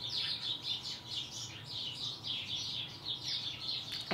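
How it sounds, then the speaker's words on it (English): A flock of birds sits just outside a window and chirps and twitters continuously. The high, busy chorus is soft and slightly muffled, and no voices are heard. "I think a swarm of birds is sitting outside my window right now."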